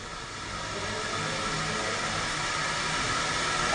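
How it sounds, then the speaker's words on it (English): Steady broadband hiss of air deflating from a pneumatic rotor system on 470-S SRD equipment, constant and fairly loud throughout, with no talking. "The air just deflated."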